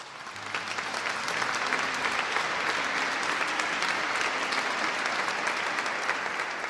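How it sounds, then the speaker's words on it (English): Steady, dense applause plays during an end-of-year live stream, holding at an even, loud level from start to finish without any talking. "Let's clap it up for that."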